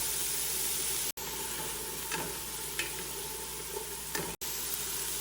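Onions saute in a pot for chicken vegetable soup with a continuous soft sizzle and hiss that stays even and fairly quiet throughout, with a few faint clinks and no talking.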